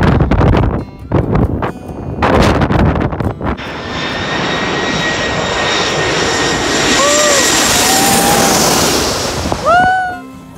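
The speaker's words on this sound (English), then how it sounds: "I got to see all these people's reactions to the jet blast as well." A jet airliner's engine blast roars across a beach at St. Maarten, building from bursts of noise into a loud, sustained whooshing wash with a rising whine, fading at the end as brief whistles sound.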